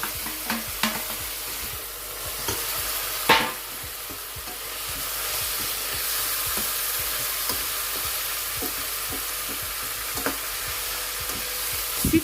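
Sautéed chicken gizzards fry with tomato and celery in a pan, a steady close sizzle broken by repeated clicks and scrapes of a utensil stirring, with a few louder knocks against the pan.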